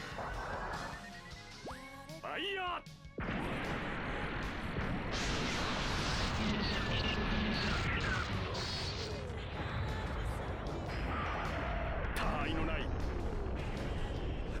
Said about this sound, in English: While he fires his giant laser cannon.